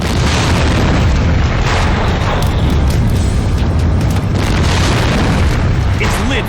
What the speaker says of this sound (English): Moments later, a second tank explodes.